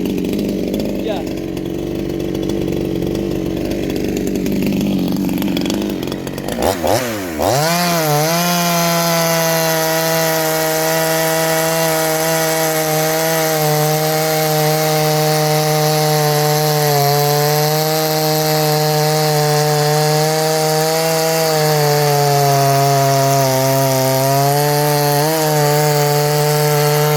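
A Chinese 58cc chainsaw revs up after a few seconds of quieter running, then holds a loud, steady high-pitched engine whine while cutting wood, with slight pitch wavers throughout.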